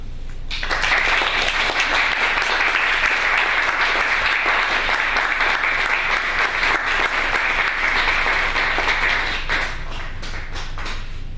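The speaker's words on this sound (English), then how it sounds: "Let's give Arthur another round of applause, please." Sustained audience applause at a TEDx salon event, dense steady clapping from a full crowd lasting about nine seconds before thinning out, with no talking over it.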